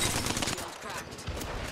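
Charge rifle fire in the video game Apex Legends crackles in close, dense bursts over a short stretch, mixed with busy game noise and a voice talking.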